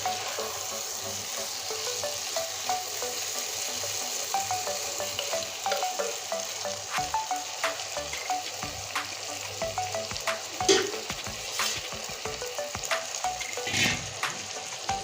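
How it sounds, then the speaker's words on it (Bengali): Fish, potatoes and spices sauté together in a pan with a steady close sizzle and frying crackle, and a spatula stirs and scrapes with irregular clinks and a few louder knocks throughout. "মাছ আলু মশলা সব একসঙ্গে পড়ে গিয়েছে এবার সুন্দর করে কষতে থাকবো"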